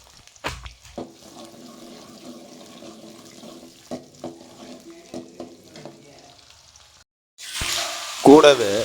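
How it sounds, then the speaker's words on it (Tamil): Crushed garlic, about fifty grams, is dropped into hot oil in a pan, setting off a sudden loud sizzle near the end after a stretch of quieter kitchen clatter. "ஒரு ஐம்பது கிராம் அளவுக்கு பூண்டை தட்டி வச்சுருக்கேன் அதை முதல்ல எண்ணெயில் சேர்த்து கொஞ்சம் நல்லா வேக விட்டுக்கலாம்"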